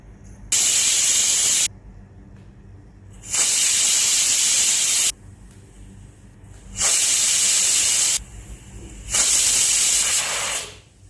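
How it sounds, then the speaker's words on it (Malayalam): A pressure cooker cooking moong dal kanji lets out four loud, steady steam whistles, each lasting about one to two seconds, separated by short quiet gaps with a low background rumble. "ഇത് സാധാരണയായിട്ട് ചോറ് വേവിക്കാനായിട്ട് പ്രഷർ കുക്കറിൽ മൂന്ന് വിസിലുമ്പോൾ ഓഫ് ചെയ്യാറുണ്ട്"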